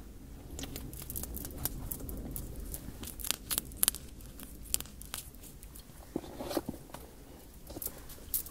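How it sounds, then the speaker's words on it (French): Tape peeling and crinkling off a tube of moisturizing lip gloss, close and crisp, a run of sharp tearing and crackling bursts with soft handling rustles between. "Pourquoi il y a un scotch dessus?"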